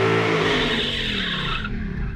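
A bone-stock 2019 Ford Mustang on street tires aired down to about 26 psi, staging at the drag strip, its engine roaring steadily and loud close by, with a rising then falling rev and a hint of tire noise.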